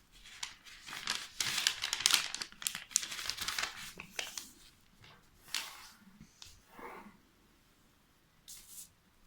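Paper slipper pattern, cut from a template, being folded in half by hand: close, crisp crinkling and rustling in bursts, loudest at the start, then softer intermittent handling sounds.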